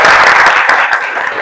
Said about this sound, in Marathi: एकदा जोरदार टाळ्या झाल्या